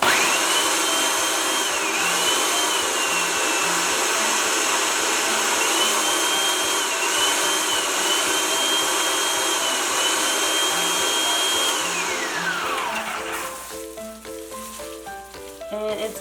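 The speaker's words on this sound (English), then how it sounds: "we're gonna put it back to blend up for a little bit more" A kitchen blender runs steadily, churning Oreo cookies for a cheesecake stuffed waffle cone filling with a loud whirring motor drone, its pitch dipping near the end before the motor cuts off.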